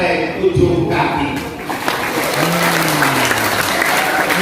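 An audience of students at a school gathering applauds steadily and loudly throughout, a dense wash of clapping with talk and an amplified voice running underneath.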